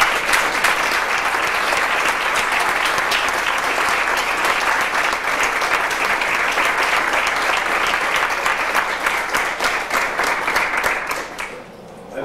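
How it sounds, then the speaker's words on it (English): An audience at a senior sports banquet gives a dense, steady round of applause that holds for about eleven seconds before tapering off quickly near the end. "all these students, one more time, deserve a nice big round of applause"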